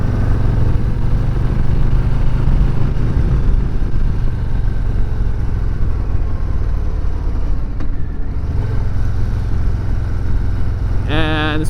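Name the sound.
Low Rider ST motorcycle riding through a curve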